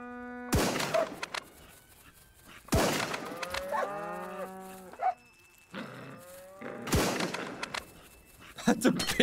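Cows moo repeatedly in an Australian survival video game, several long, loud, close calls separated by sharp bursts of gunfire, with a person talking at times over the game sounds.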